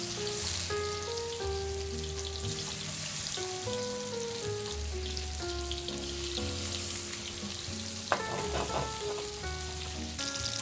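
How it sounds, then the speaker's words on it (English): Red snapper fillets seared skin side down in a hot pan give a soft, continuous sizzle and hiss that sits beneath louder background music, with a short crackling burst partway through. "And then add the snapper, skin down, let it sear for about 4 minutes."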